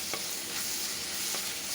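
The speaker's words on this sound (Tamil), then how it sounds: "இது கொஞ்சம் நல்லா வதங்கட்டும்" Garlic-ginger paste sautéing in a pan over medium heat, a steady close sizzle with a few soft stirring scrapes, brief and continuous, no voices.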